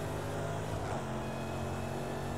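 Engine of a Jaguar F-Type SVR in the Project Cars 2 racing game on a dirt rally stage, a steady low droning growl held at constant level throughout.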